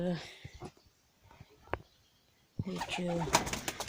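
Soft domestic pigeon coos come and go at moderate distance in the evening, then a burst of livelier cooing and fluttering bird sounds near the end.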